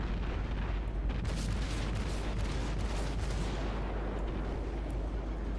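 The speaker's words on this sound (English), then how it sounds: "There's the broadside of 6 guns." A warship's six-gun broadside in World of Warships lets off a deep rolling boom that sustains as a dense, rumbling roar for several seconds, fairly quiet overall, with no voices.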